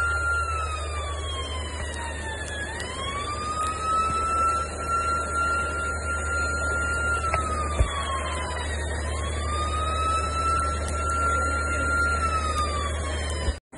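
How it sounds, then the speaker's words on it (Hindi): A siren wails at an office on Bengdubi Military Station, its tone sweeping smoothly up and down in slow, repeating cycles over a steady low hum, loud and unbroken with no voices. "सायरन बज रहा है"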